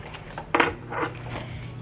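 A small bunch of keys jangles and clinks briefly, close by and fairly quiet, with a sharp metallic chink at the start and lighter rattles after.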